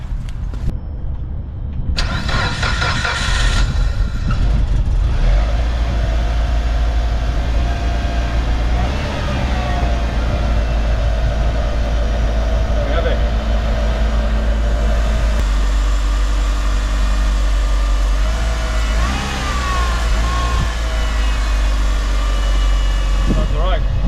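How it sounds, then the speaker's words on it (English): A Japanese import car engine cranks and catches, then settles into a steady, loud idle that runs on continuously close by. "So I just fired the car up now"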